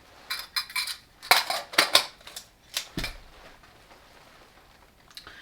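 A small metal backpacking cook kit with a tiny BRS stove and gas canister is handled up close: sharp clinks, rattles and taps in scattered bursts, then quiet.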